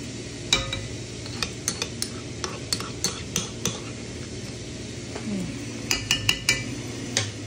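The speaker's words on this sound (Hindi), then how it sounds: "अब इसके अंदर लहसुन का पेस्ट जो मैंने तैयार किया वो ऐड करूँगी" Garlic paste being stirred into a frying pan for chicken karahi, with a steady low sizzle under repeated sharp clinks of a metal spoon against the pan, spaced irregularly and close up.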